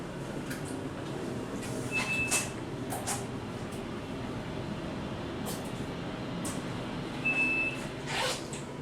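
Otis Series 1 hydraulic elevator motor running through a ride in a resort elevator, a steady low hum and rumble with a faint high whine and occasional light clicks and knocks on top.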